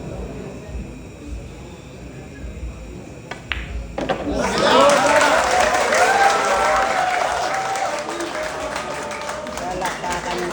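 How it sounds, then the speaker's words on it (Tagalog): A crowd at a match in Surigao breaks into sustained, loud applause and cheering after a quieter stretch, with scattered voices and clapping continuing to the end. "Palakpakan yung crowd natin dito sa Surigao."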